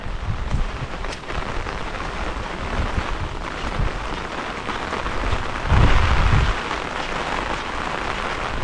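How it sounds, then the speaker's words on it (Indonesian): Heavy rain pours steadily over a Japanese village during a storm, a dense continuous hiss of drops on surfaces with a brief louder burst midway, no one speaking. "Ini hujan badai."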